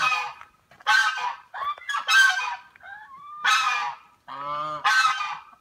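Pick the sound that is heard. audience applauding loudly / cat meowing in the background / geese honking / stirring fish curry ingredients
geese honking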